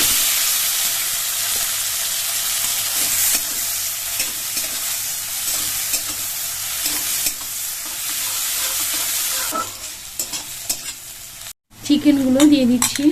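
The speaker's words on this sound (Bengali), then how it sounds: "লঙ্কা দিয়ে দিচ্ছি, পেঁয়াজ কুচানো দিয়ে দিচ্ছি," Chilli and chopped onion fry in hot oil in a wok for palong chicken masala, a loud continuous close sizzle with stirring scrapes, a brief drop near the end and then a louder surge of sizzling.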